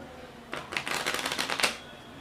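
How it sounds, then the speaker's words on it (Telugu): A deck of playing cards riffled into two sets and shuffled together, producing a quick, close flutter of crisp card snaps for under two seconds, no talking over it. "అండ్ ఇప్పుడు నేను ఈ రెండు సెట్స్ని షఫుల్ చేస్తాను, కొన్ని కార్డ్స్ ఇలా కొన్ని కార్డ్స్ ఇలా"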